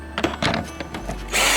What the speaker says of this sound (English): I put the drill on low speed. Watch.